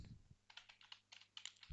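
Quick, soft clicks of a computer keyboard tap out a short burst of typing as a test case name is entered, faint and close with a low hum beneath.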